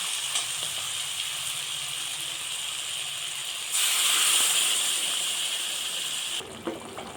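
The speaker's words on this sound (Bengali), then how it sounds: "বাকিটা সম্পূর্ণভাবে ভাজা হয়ে গেলে এখন আমি একটু মধ্যে গরম জল দিয়ে দিই" Hot water poured into a frying pan of Bengali bori curry sets off a loud, steady hiss that swells into a stronger burst of steam midway, then drops off abruptly near the end, heard close with no voices.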